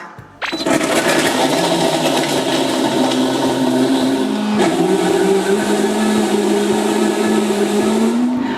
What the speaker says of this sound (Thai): ตัวโรมาล่าเบรนโดตัวนี้เขาก็จะเป็นเครื่องปั่นรุ่นแบบเก็บเสียงนะคะ